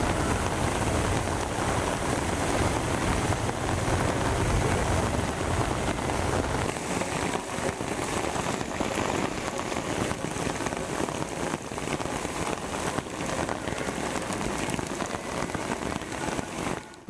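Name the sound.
heavy rain at Thiruchendur, rainwater flowing on roads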